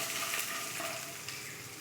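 Black cumin seeds, chopped garlic and ginger fry in hot oil, a short, even, close sizzle with light crackling and no voices.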